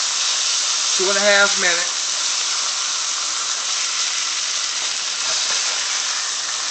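Cube steak sizzles in a hot pan with a constant, bright frying hiss, while someone speaks briefly over it.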